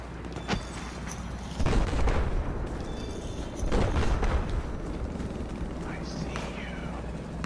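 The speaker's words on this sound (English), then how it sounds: "There's a bunch of bullets coming out from up above." Gunfire comes from above in a video game shooter: several muffled bursts and booming reports arrive in clusters over a constant background rumble, while a voice talks over it.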